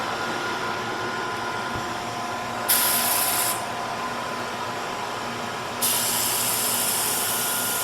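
Two bursts of pressurized spray hiss as 710 sealer is applied in a thin coat to a vertical surface, each lasting under a second to two seconds, loud and close over a constant droning machine hum.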